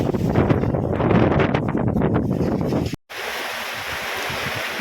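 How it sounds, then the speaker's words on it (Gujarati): Strong storm wind roars steadily across the microphone with a surf-like rush as heavy clouds gather and a little rain falls, the gusting noise continuous and loud, briefly cutting out before resuming more evenly. "કારણ કે પવન પુષ્કળ છે."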